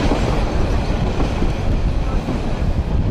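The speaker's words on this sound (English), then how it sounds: "So this is how you travel on a train in Bangladesh." A packed passenger train in Bangladesh rolls along with a steady, loud broadband rumble and rattle of carriages heard from on board, continuous throughout with no clear voices.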